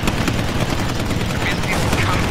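Machine gun fire from Battle of Britain fighter planes in the Combat Wings video game, a loud continuous rattle of dense bursts over engine roar and battle noise.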